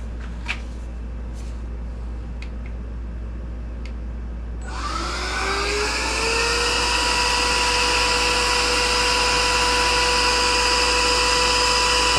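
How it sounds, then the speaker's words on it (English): A small handheld vacuum cleaner whirs up after a few quiet taps, rising to a loud, steady, high-pitched whine that runs on alone while old speaker foam is being replaced. "this one's kind of nice to have a little vacuum"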